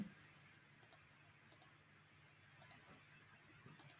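A computer mouse clicks sharply and close by, about seven or eight clicks in single and double bursts spaced across a few seconds, over a quiet room hush.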